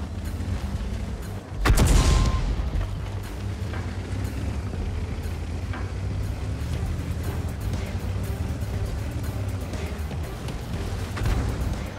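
Tank cannon fire in World of Tanks from an enemy tank hitting with an SE round: one heavy boom early on over a constant low engine rumble, with smaller impacts and battle noise continuing.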